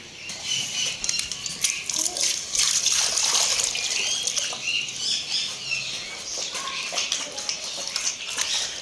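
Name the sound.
water being poured for birds and animals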